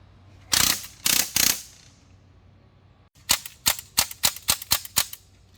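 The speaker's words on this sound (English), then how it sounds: "I'm shooting right through it." An Umarex DPMS SBR BB rifle fired outdoors: three loud, spaced shots, then after a pause a rapid string of about eight sharp cracks in quick, even succession, close to the listener, with no talking.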